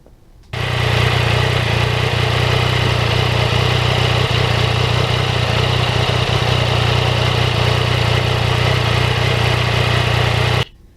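A Yamaha MT-09 naked motorcycle on a winter ride, a loud, steady engine drone blended with rushing wind that runs unbroken for about ten seconds.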